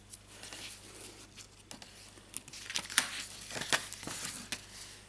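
Adhesive scotch tape is pulled off and torn during scrapbook album crafting, giving faint crinkly rustles with a few sharp ripping bursts in the middle, close and quiet with no voices.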